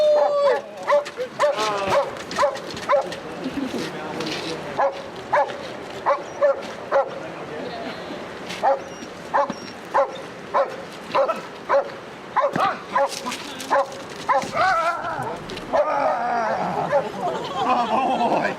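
A police dog barks repeatedly and excitedly in sharp regular bursts, close and loud, with handlers shouting commands between and over the barks.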